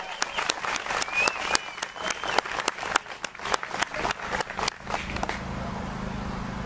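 Crowd at the Henry Joy McCracken commemoration in Belfast applauds a local flute band, a close burst of sharp, uneven hand claps that thins out and fades toward the end.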